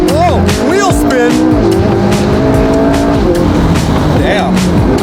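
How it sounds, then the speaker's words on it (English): A Lamborghini spins its wheels, its tires squealing in repeated rising and falling screeches over a loud engine roar, with a few short sharp bursts and excited voices talking over it. "wheel spin"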